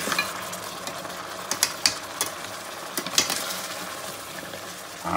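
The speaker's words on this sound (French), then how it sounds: "on va remuer tout de suite justement pour éviter que notre riz se colle" Pumpkin risotto rice is stirred in a hot pan, a spoon scraping and knocking in irregular strokes over a soft, constant sizzle, close and moderately quiet.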